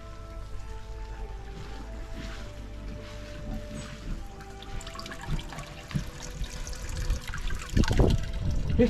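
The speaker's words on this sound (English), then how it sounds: "you should see the water running" Steady running water trickles and splashes through a koi pond filter, a continuous wash of flow that grows a little louder and more turbulent toward the end.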